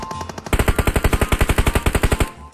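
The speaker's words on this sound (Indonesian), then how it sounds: "Siapa yang nembak ya?" Automatic gunfire in PUBG Mobile: a loud, fast, even burst of about twenty rounds in close succession, with no talk over it.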